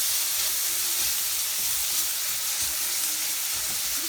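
Onions and garlic frying in a pan, a steady, close, loud sizzle and hiss throughout with no pauses.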